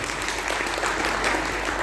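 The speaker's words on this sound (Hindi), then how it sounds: "एक बार ताली बजानी चाहिए।" A large audience at a direct-selling business meeting in Delhi breaks into loud, continuous clapping, a thick, even wash of hands from start to end.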